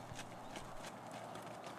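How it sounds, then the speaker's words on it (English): A horse lopes at a canter, its hooves giving rhythmic, muffled clip-clop beats in a steady three-beat pattern over constant broadband background noise. "Now Michelle goes into a lope, also called a canter"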